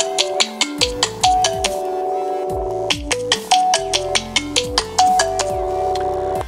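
Melodic electronic ringtone playing from a Xiaomi Mi Note Bamboo Edition smartphone, a bright chiming tune of quick repeated notes over sustained bass tones, clear and close with no talking.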